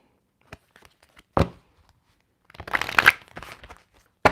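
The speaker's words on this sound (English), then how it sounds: "All right, quick shuffle." Tarot cards are shuffled by hand in a few quick, crisp riffling bursts separated by short pauses, close and fairly clear.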